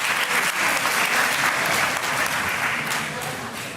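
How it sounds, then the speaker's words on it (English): A seated audience at an International Youth Day celebration gives itself a hearty round of applause, loud and dense at first, then gradually thinning and fading toward the close. "please give yourselves a round of applause for making it"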